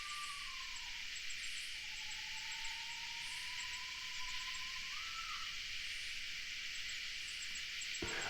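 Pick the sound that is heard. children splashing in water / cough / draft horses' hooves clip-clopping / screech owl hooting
screech owl hooting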